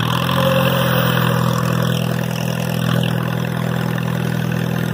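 A 1951 Case VAC tractor engine idles steadily just after starting, a continuous low mechanical rumble with even firing, close and fairly loud, with no voices over it.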